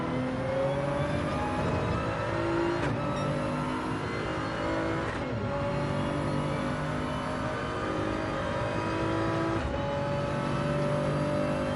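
Onboard race car engine at the La Sarthe endurance race, a loud steady roar with several sharp gear changes that briefly cut the tone before it climbs again.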